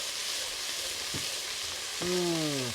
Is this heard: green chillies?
yes